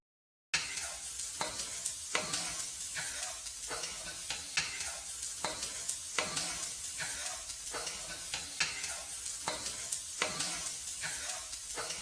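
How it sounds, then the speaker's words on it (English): Schezwan fried rice is stir-fried over a medium flame, with a continuous hissing sizzle broken by rhythmic spatula strokes and scrapes about every half second to second, close and steady. "Keep mixing in medium flame."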